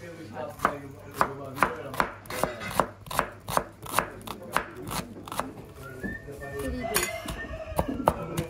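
Knife chopping red and white onions on a cutting board, a steady run of sharp, close, evenly spaced chops that loosens into lighter, scattered cuts near the end, with faint kitchen clinks underneath.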